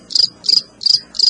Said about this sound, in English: Just a cricket, just the dead of the night.